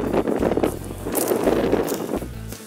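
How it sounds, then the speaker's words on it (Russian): Gusty wind buffets the microphone with low rumbling roars and rustling, rising and falling loudly throughout. "что за ветрище-то такой?"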